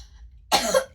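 A single sharp, close cough bursts out after a half second of near silence, breaking over a low background hum.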